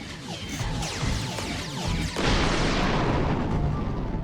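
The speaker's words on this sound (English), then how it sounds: "Even with the bigger explosions, they still kind of just sound like balloons popping." Bursts of explosions in a video game, a dense run of sharp pops and crashes overlapping into a continuous noisy rumble that grows louder and broader partway through, with no talking.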